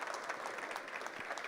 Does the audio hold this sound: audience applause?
yes